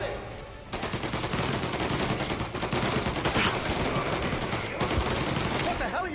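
Sustained automatic gunfire in the Mafia Definitive Edition video game, a dense, loud fusillade of rapid shots that continues throughout, with brief shouted voices mixed in.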